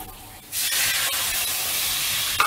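Water poured into a hot pan of frying potatoes for alur dom, bursting into a sudden loud steam hiss that sizzles on steadily, close and alone.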